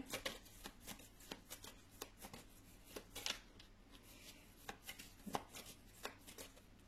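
Tarot cards being shuffled and drawn by hand, close and fairly quiet, with a steady run of short riffling flicks and soft slaps that keep going throughout and no talking.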